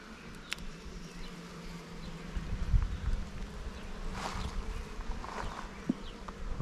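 Honey bees at an open hive make a steady, close buzzing swarm, with occasional louder passes as individual bees fly near or bump against the listener.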